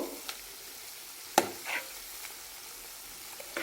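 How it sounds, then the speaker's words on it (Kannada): Onion pakoda frying in oil on a low flame, a soft steady sizzle with a few light clinks and stirring scrapes near at hand, no talking. "ಅದಕ್ಕೋಸ್ಕರ ಕಡಿಮೆ ಉರಿಯಲ್ಲೇ ಇದನ್ನು ಬ್ರೌನ್ ಕಲರ್ ಬರೋವರೆಗೂ ಫ್ರೈ ಮಾಡ್ಕೊ"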